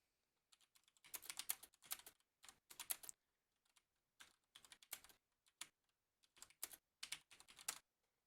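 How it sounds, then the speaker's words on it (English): Fast typing on a computer keyboard at close range: rapid bursts of key clicks separated by brief pauses, crisp and clear with no talking. "And this is me typing an actual sentence."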